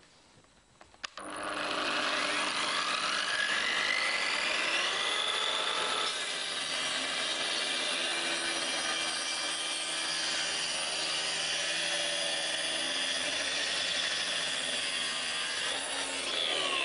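A Triton track saw makes a 45-degree bevel cut through wood: the motor spins up sharply, then a loud, steady cutting whine holds for about fifteen seconds, close by.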